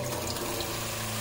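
Steady rush of water flowing at full flow from a SEAFLO 42 series 4 GPM quiet water pressure pump, a constant faucet-like stream with a low pump hum beneath, near and unbroken throughout.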